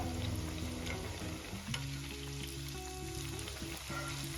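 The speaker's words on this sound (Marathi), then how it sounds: "इथे आपल्याला छान गोल्डन कलर येईपर्यंत तळून घ्यायचे आहे मालपुवे" Malpua fry in hot oil, giving a continuous, even sizzling hiss with fine crackling throughout, close and steady, with a low background hum underneath.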